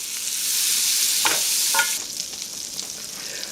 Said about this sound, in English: So I'm stirring in my onion, salt, and thyme